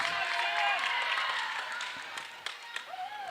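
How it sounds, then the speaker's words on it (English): A raucous crowd at a girls' high school volleyball sectional game claps and cheers loudly and steadily throughout, with occasional sharp squeaks from the court. "Great raucous crowd."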